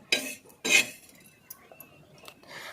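Coriander seeds dry-roasting in a pan, heard as two brief metallic scrapes and clinks of a spoon stirring, then quieter scattered ticks, close and without speech.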